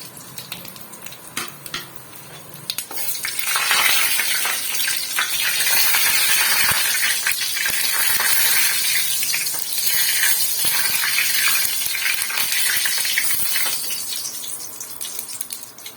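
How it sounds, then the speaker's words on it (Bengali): Steady crackling sizzle of spices hitting hot mustard oil, loud and close, with bursts of spattering and a hissing wash throughout. "আমি ফোড়নটা এবার তেলে দিয়ে দেবো।"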